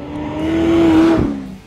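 A 2009 Chevrolet Corvette ZR1 sweeps through a slalom at about 75 mph, its engine holding a steady drone that swells as it passes close, then a brief tire scrub as the note fades away.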